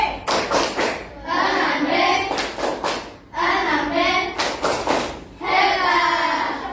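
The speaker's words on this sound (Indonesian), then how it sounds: "Tepuk hebat untuk kelas 6B." Primary school class 6B performing the 'tepuk hebat' rhythmic clap: loud, close group hand claps in patterned bursts, alternating with children chanting together in unison between the clap sequences.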